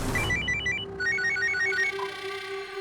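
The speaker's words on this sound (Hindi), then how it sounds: "दरअसल उनका दोबारा से फोन आया था" A telephone rings with a repeating electronic melody, bursts of quick tonal notes over a steady hum, fairly quiet and without talking.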